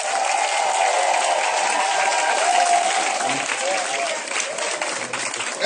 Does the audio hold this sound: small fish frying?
no